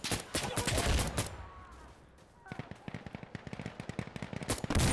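Automatic AK rifle fire in the video game Insurgency Sandstorm: loud, rapid bursts of close gunshots, a brief lull, then sustained rattling fire with a voice talking over parts of it.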